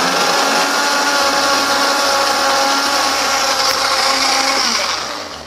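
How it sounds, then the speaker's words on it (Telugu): A kitchen mixer grinds curry leaves with curd, running with a loud, steady whirring drone that fades slightly at the end. "ఇప్పుడు దీన్ని నేను బాగా మిక్సీ చేస్తున్నాను"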